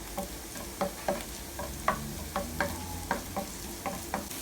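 Onion stirred and frying in a pan with ginger and garlic for banana flower cutlets, a steady low sizzle broken by regular scraping strokes of the spoon, close and fairly quiet with no talk.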